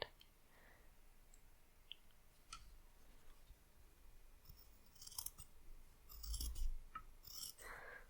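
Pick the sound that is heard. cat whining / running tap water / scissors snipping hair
scissors snipping hair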